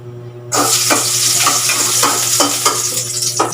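Garlic frying in a little vegetable oil in a pan, a close, steady sizzle that starts suddenly, with repeated bursts of stirring scrapes and a low background hum underneath.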